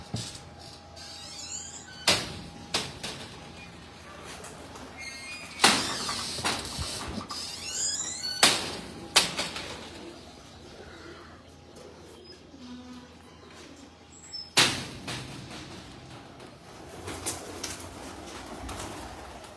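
Breeder pigeons coo softly in a loft, low repeated calls mixed with intermittent wing flaps and loud rustling bursts, with very little talk.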